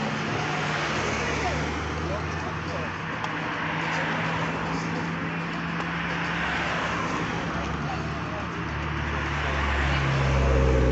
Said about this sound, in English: A wonderful AMG departure there